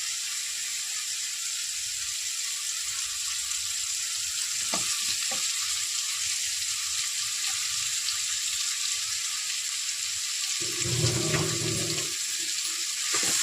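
Dried anchovies (nethili karuvadu) fry in a pan in a home kitchen, giving a steady, close hissing sizzle that runs throughout, with a few clinks and a louder stirring burst near the end.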